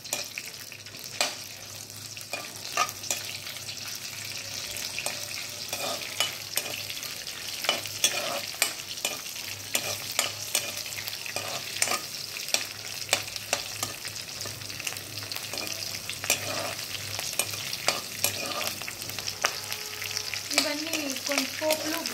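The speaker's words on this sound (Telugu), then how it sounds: "ఇవన్నీ కొంచెం పోపులు, మిర్చి అవన్నీ బాగా వేయించుకోవాలి" Dried red chillies, green chillies and tempering spices sizzle and crackle steadily in hot oil while onion rice is prepared, with sharp spattering pops and occasional stirring scrapes close by, and no talking.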